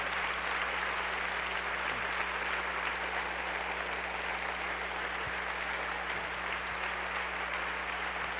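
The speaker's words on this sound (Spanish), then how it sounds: "Now applaud him" A church congregation applauds in praise, a steady dense wash of clapping from many hands filling the room, continuous and even throughout with a low hum underneath.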